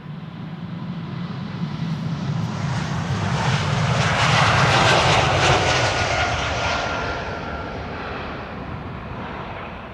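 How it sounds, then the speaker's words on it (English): A KLM Embraer E195-E2 jet departs Amsterdam Schiphol Airport, its engine roar swelling to a loud peak midway and then slowly fading as it climbs away. "KLM Flight 1531 to Valencia. E2 Embraer 195."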